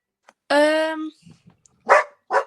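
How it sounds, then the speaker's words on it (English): A pet dog indoors, reacting to someone coming in the door: one long, loud, tonal bark or yelp, then two shorter, sharper barks a moment later, with faint noises between them. "Oh, sorry, my dog."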